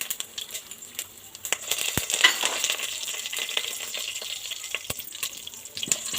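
Mustard seeds, cumin, pepper and fenugreek crackle and sputter in hot oil, a close, continuous hiss dotted with sharp pops and tiny bursts throughout, with no voices.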